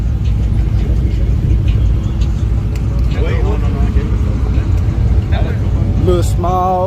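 Small-block V8 with a performance tune in a 1971 Ford Maverick, rumbling steadily up close under loud surrounding activity and crowd noise, with a few higher whines near the end.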